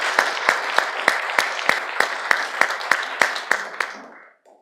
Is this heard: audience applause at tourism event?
yes